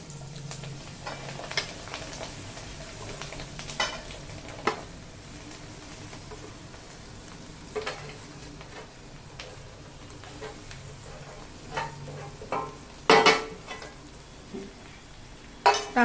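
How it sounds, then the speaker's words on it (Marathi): Coriander bhagrala mixture being stirred in a frying pan, a steady soft sizzle under scattered scraping and clinking of a spoon against the pan, with a few sharper knocks near the end. "टाकल्यानंतर आपल्याला हळूहळू हे हलवायचे, कारण ही भाजी कोरडी असते"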